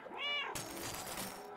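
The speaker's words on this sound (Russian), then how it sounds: "если мы мяукаем, то какие-то глюки происходят немного" A cat in the video game Stray gives a single clear, close meow, followed by a burst of harsh noisy glitch-like hiss.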